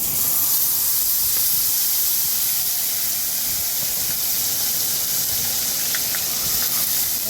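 Ground masala paste hits hot tempering oil for a Tengna fish curry, giving a loud, steady hiss and sizzle that runs unbroken throughout with no talking.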